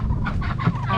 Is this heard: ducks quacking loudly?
yes